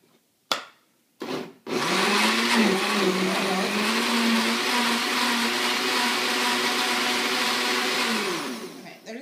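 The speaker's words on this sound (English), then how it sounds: "maybe it'll blend up better with that in there" A blender set to milkshake whirs a post-workout protein shake, starting after a couple of sharp clicks and then running loud and steady for about seven seconds before it winds down.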